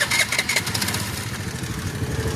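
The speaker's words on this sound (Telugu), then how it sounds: "ఇది బ్రేక్ పట్టుకొని సెల్ఫ్ స్టార్ట్ వినండి, డిఫరెంట్ ఉంటుంది" A motorcycle's electric self-starter whirs briefly with the brake held, then the engine catches and runs with a steady, close idle.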